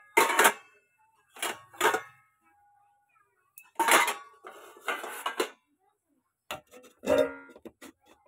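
Metal pot lids clank against a pot of cooking cabbage, several short sharp clatters and rattles spaced apart, close and clear against near silence.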